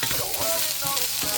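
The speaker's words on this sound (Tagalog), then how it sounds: "Lutuin na natin yung sangkap natin bago natin ilagay yung kanin" Ingredients for special fried rice frying and being stirred in a hot pan before the rice goes in, giving a loud, dense and continuous sizzle with faint scraping, heard close up and alone.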